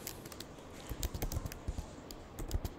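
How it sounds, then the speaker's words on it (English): Fingers type on a computer keyboard while entering Python code, producing a quiet, irregular run of crisp key clicks with brief pauses between bursts. "So here I'm typing"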